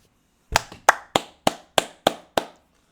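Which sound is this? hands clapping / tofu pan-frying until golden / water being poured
hands clapping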